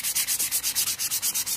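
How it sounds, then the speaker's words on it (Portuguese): Sandpaper rubbed by hand along the edges of an MDF box, a rapid steady rhythm of about a dozen close, loud, raspy strokes with no talk. "vai lixando tudo, lixa bem assim as quininhas"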